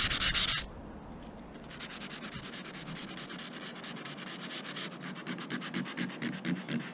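Hand sanding of epoxy on a Hobie Cat 16 boat gives a steady, close, dry scratching rasp of repeated strokes that continues after a brief louder burst at the start.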